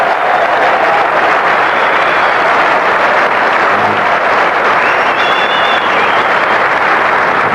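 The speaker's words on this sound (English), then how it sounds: "Very appreciative crowd." Cricket crowd at a 1992 World Cup match between Pakistan and England applauds a fielding play, a loud, dense, sustained wash of clapping and crowd noise from a large stadium.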